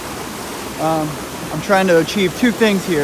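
Spoon Creek Falls, a waterfall in Washington State, gives off a constant broad roar that sits beneath a man's close, clear talking for the whole stretch.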